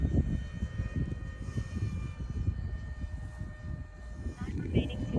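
An F-16 50mm EDF model jet from HobbyKing flies at half throttle on its maiden flight, a faint, steady ducted-fan whine under rumbling wind and a voice talking nearby.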